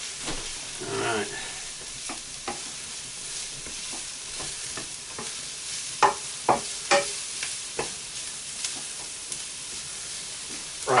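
Mushrooms frying in a pan for a breaded cutlet in hunter sauce, a steady close sizzle broken by sharp clicks and scrapes of stirring, with no talk.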